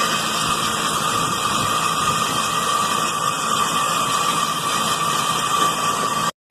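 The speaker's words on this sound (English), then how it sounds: "That compressor's already sounding pretty nasty." A noisy HVAC compressor runs continuously up close, giving a steady loud hum and whine with broadband hiss, cutting out briefly at the end.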